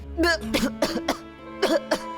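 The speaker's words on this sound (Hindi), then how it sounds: "पता नहीं अचानक खांसी क्यों आने लगी" Several sharp, close coughs in quick bursts, with a short pause before a final pair; a voice is faintly audible between them.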